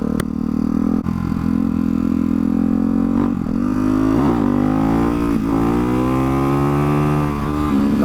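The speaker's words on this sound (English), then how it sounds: "The bike rattles so much" A Ducati motorcycle being ridden, its engine loud and close with rising and falling revs, a steady mechanical drone carrying some rattle as the gears shift.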